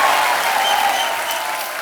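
Loud, dense applause from a television show audience welcoming a veteran dancer onto the stage, a sustained roar of clapping that tapers slightly toward the end.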